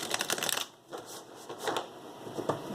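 Tarot cards being shuffled close by, crisp riffling bursts in quick, irregular flurries with short pauses between them.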